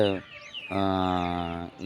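Farm chickens, just let out after grain is scattered for them, give two drawn-out, close calls separated by a short pause.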